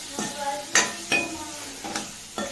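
Chutney ingredients being stirred and sautéed in oil in a pan: five or so close spoon scrapes and clinks against the pan over a continuous soft sizzle, with no voices.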